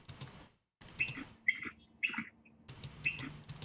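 Short bird chirps taken from bald eagle calls, cut into a rhythmic sample: a few bright, staccato tweets and squeaks in bursts, close and moderately loud with brief gaps of silence between them.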